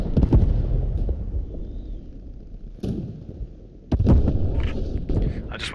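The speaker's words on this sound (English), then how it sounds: "I'm shooting at it right now." Gunfire in a Post Scriptum match at Dinant, with sharp shots at the start and near 2.8 and 4 seconds over a steady rumble of battle and ambient noise.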